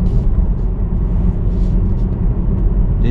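A 2019 BMW Z4 roadster pulls ahead under throttle through city streets, its engine a steady, loud low rumble heard from inside the cabin with no breaks or pauses.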